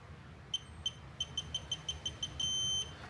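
A torque wrench gives a series of short, high-pitched electronic beeps, about nine in quick succession, ending in one longer sustained tone, clear over a low background hum, while oil pan bolts on a VW 1.9 TDI are tightened.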